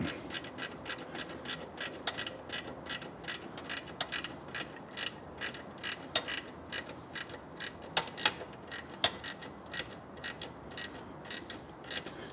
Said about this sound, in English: So now just need to get our 8mm ratcheting wrench in there. Tighten these up.